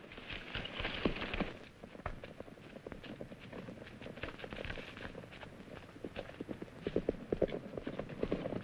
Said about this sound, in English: He's trying to steal the mares. He's a smart horse.